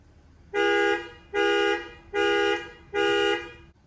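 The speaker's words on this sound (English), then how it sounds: "just press the button for your car alarm" A car alarm sounds four loud, evenly spaced electronic horn blasts, close and with nothing else around them.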